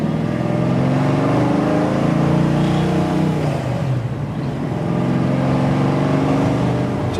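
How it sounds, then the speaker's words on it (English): A 1967 Mustang Fastback's 370-horsepower 302 V8 cruises at highway speed in fifth gear, its steady low exhaust drone and road roar continuous and loud throughout, with a brief dip partway. "we'll go highway speeds and let this 370 horsepower 302 breathe"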